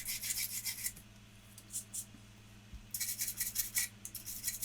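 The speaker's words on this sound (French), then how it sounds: "Je prends ma brosse qui est quand même assez rigide. Je vais enlever les petits résidus de colle blanche qui sont sur ma caisse." A stiff brush scrubs white glue residue off the hull of a T-34/85 scale model tank, rapid bristly back-and-forth strokes in close, repeated bursts over a steady low hum.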